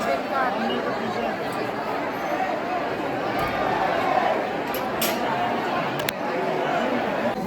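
Busy crowd of devotees chattering at the Radha Rani temple in Vrindavan, constant overlapping voices close around, with a few sharp knocks and clicks cutting through the steady hubbub.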